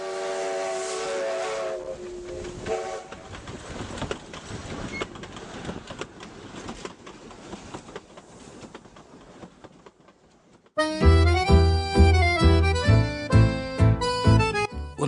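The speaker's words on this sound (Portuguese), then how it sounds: "um trem chegando numa estação" A steam train arrives at a station, a long rumbling roll of wheels and carriages giving way to a loud, sustained steam whistle with pulsing blasts near the end.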